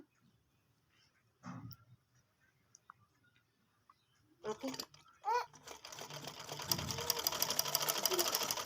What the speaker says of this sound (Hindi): और फिर इसको सिलाई लगाते हैं।